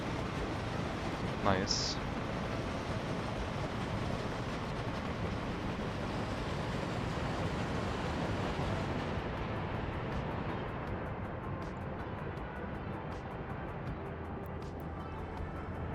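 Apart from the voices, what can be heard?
shunting steam train returning after coaling, from a video game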